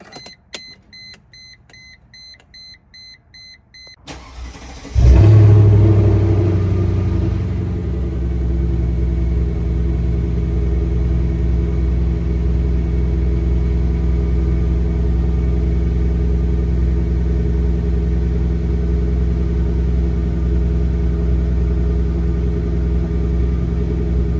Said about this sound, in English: Let's give her a cold start.